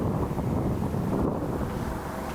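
Wind from a roughly 12-mile-an-hour headwind on an open disc golf field, buffeting the microphone as a continuous low rumbling roar with no distinct events.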